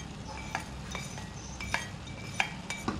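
A spoon stirs chillies and ginger into urad dal in a metal pot, giving a few sharp metallic clinks and scrapes at irregular intervals over a soft, quiet background.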